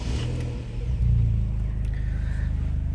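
Idling Vauxhall Corsa VXR engine fitted with a Powerflow exhaust and no exhaust leaks, a steady close, loud low rumble with a slight swell in revs partway through, alone with no talk.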